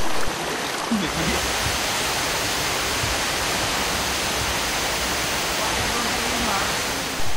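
A river in the Gunung Bawang forest area near Riam Tapsa, Bengkayang, flows steadily with a dense, continuous rush of water that stays close and loud throughout, with no talk over it.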